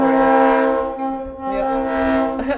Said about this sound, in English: there's a train that takes tourists.